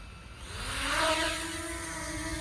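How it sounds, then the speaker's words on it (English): A camera drone climbs on a cold, misty morning over Broughton in Salford, its motors giving a steady whirring buzz with rising harmonic tones as it ascends, loud and close, with no talk. "so I was able to take the drone up"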